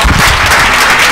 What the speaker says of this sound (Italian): io proporrei un bel applauso